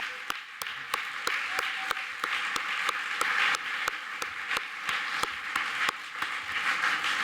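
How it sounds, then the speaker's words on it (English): At an awards ceremony, a large audience keeps up sustained applause throughout, with sharp, regular clap-like ticks cutting through the dense crowd noise. "One more round of applause for Tarek."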